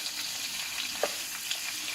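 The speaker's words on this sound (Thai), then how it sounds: "หมูที่มันโดนฉ่ากับกระทะ" Steady frying sizzle of pork in a hot pan over high heat, a dense crackling hiss with a couple of small pops, close and moderately loud, no talking.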